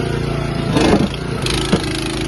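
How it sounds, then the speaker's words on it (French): A petrol engine mounted on a self-propelled irrigation hose reel runs steadily nearby at a constant mid-pitched drone, with a brief louder surge partway through. No one speaks over it. "Il y a un moteur thermique dessus."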